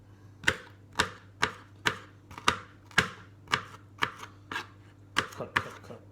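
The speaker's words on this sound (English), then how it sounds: "Got my carrots chopped, broccolis chopped, and peppers chopped, ready to go into the dal." Knife chopping carrots, broccoli and peppers on a board for dal: a steady run of about a dozen sharp, close, even chops, with no talk.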